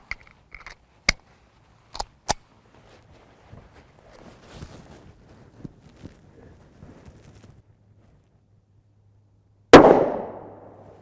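A single loud 9x19mm shot fired from a 3-inch barrel with G9 Defense 80-grain external hollow point rounds cracks near the end, ringing off, after scattered clicks, handling taps and light footsteps in otherwise quiet surroundings.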